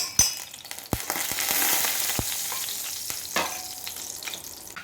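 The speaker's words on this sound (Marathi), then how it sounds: "मी आता हे सगळा जे मसाला आहे मी ह्याच्या तेलामध्ये टाकून घेत आहे" Spice mix poured into hot oil for a green chilli and lemon pickle, a bright crackling sizzle swelling after a few sharp clinks of spoon on vessel, then fading as it is stirred.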